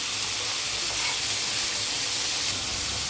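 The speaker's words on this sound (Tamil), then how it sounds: "அதை வந்து வெங்காயத்தோடு போட்டு வதக்கிக்கலாம்." Onions sautéing in a pan give a steady, close, even sizzling hiss that runs unbroken throughout, with no talking.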